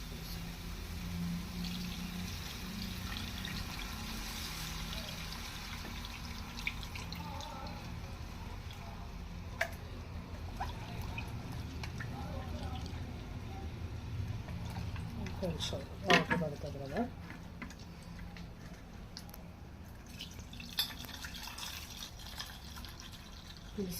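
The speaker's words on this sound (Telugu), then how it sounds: "ఇప్పుడు మనం ముందుగా కలిపి పెట్టుకున్న చింతపండు గుజ్జు వేసుకుందాం" Pre-mixed tamarind pulp poured into a simmering garelu pulusu stew makes a soft, continuous liquid splash and trickle, with a few drips, running under steady talking throughout.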